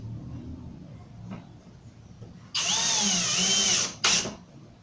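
A power drill bores into a melamine board clamped against a stop on a workbench, whining loudly and up close for over a second before a short second burst, over quiet workshop background.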